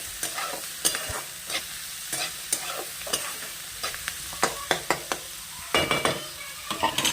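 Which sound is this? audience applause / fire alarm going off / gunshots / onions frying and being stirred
onions frying and being stirred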